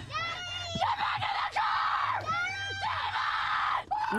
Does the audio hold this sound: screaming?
yes